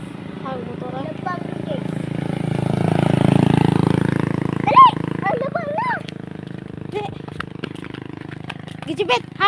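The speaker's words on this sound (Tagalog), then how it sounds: "Ang motor." A motorcycle engine runs nearby, swelling to a louder pass in the middle, while several people talk and call out over the steady hum.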